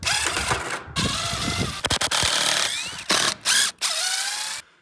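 Power drill backing coated exterior screws out of an old chicken coop, a loud whirring burst with several short bursts and pauses as the screws come loose, close and alone.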